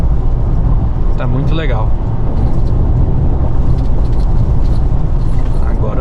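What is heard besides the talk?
Mitsubishi Triton diesel pickup driving on highway at 1500 rpm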